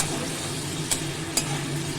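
A soft, constant sizzle of tomatoes and spices sautéing in oil, with two brief scraping stirs; close and fairly quiet, no voices.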